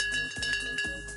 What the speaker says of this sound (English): The bell has sounded.